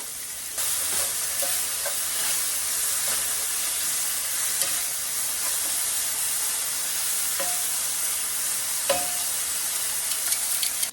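Shredded buffalo chicken sizzles steadily in a preheated pan, a continuous close hiss with faint scrapes and clicks now and then and no talking.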